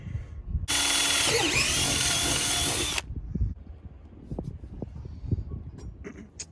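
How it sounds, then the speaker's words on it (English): A power drill bores holes in boat fittings, one steady loud high whine lasting about two seconds, then quieter handling clunks and rustles follow with no talk. "just drilling a couple holes and bolting them on there"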